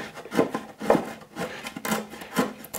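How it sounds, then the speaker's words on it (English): A wood chisel pares into an already assembled wooden case, producing a series of close, rasping slicing strokes in an uneven rhythm, with no voices. "I can now lay the chisel against it"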